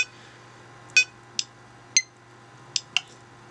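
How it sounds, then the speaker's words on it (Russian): A metronome app on an iPhone beeps at 60 beats per minute, a series of short, sharp, evenly spaced bright beeps against a quiet background with a faint hum. "еще этот метроном чем хорош, у него очень приятный звук"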